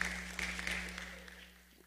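Guests at a high school graduation awards ceremony give an honor graduate a brief, faint round of scattered clapping that fades away within two seconds over a low hum.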